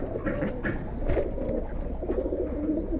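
A big maroon-necked male pigeon coos in low repeated rolling notes, close and fairly steady, over a busy background with faint rustling and indistinct voices.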